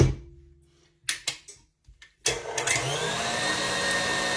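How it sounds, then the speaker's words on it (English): After a few scattered clicks and handling knocks, an electric mixer switches on at high speed to beat egg whites, settling into a loud, steady whirring drone that continues to the end. "Turn your mixer on high speed with this kind of thing on it."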